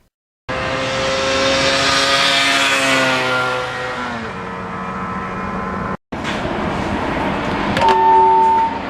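A 1977 Yamaha RD400 two-stroke motorcycle engine revs loudly and close by, its raspy pitch climbing and falling through a long pull, cutting out briefly, then snarling back up to a high rev.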